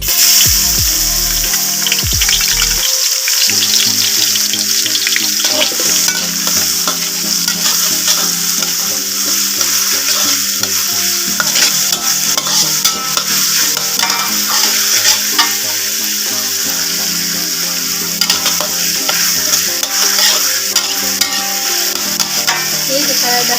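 Loud, continuous sizzling of ground chili paste frying in hot oil, with occasional stirring scrapes, no voices.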